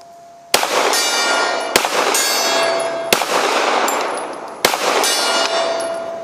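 Four loud pistol shots from a CZ P-09 or XDm ring off a steel gong target, each sharp crack followed by a long metallic clang that rings out before the next shot.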